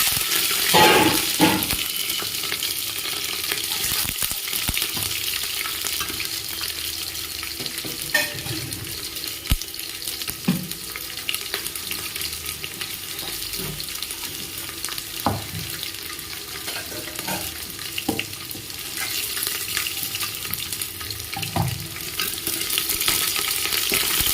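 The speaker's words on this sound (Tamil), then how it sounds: "அடுத்து சின்ன வெங்காயம் அரிஞ்சு வச்சுருக்கிறது நல்லா வணக்கி வச்சுக்கோங்க." Chopped shallots fry steadily in a pan for a Tamil cowpea kuzhambu, a continuous close sizzle broken by occasional stirring scrapes and clinks.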